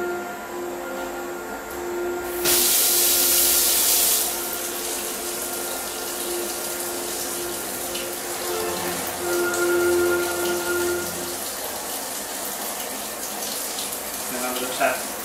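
Tap water runs steadily to cool a denture rim after it is heated and melted, a close, continuous rush with a brief louder burst early on, no voices over it.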